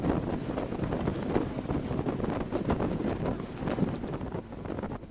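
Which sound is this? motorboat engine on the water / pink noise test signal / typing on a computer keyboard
motorboat engine on the water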